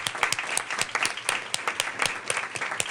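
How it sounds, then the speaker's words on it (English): An audience at a school district superintendent's meeting breaks into sustained applause, dense clapping holding steady for the whole stretch without voices. "let's give him a big round of applause"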